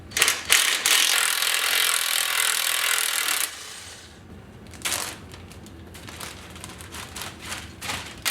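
Rapid clicking of a 1/2-inch ratchet backing out rear crossmember bracket bolts during a frame strip, loud and close for about three seconds, then quieter scattered clicks and handling noises.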